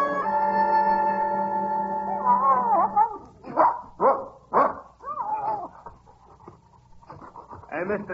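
Dog howling in a long sustained wail, then breaking into shorter yelps and panting-like bursts, heard up close on a TV soundtrack with voices nearby.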